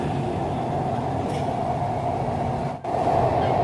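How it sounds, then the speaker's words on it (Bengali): A Green Line metro train rumbles steadily through the tunnel beneath the Ganga river from Howrah station, a loud continuous roar with a brief dip near the end. "আর আমাদের মেট্রো হাওড়া স্টেশন থেকে ছেড়ে গঙ্গার তলা দিয়ে পৌঁছাবে"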